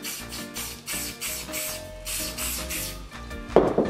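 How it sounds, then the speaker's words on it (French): Hairspray sprayed over gold glitter decorations on a cake, a few steady hissing bursts repeating in a rough rhythm, close and fairly quiet, with a sharper handling noise near the end. "je prends de la laque à cheveux et j'en mets dessus"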